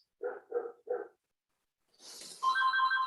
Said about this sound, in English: Oh no, we've got a phone in the room.